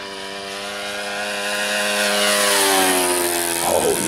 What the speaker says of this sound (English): Fast flyby.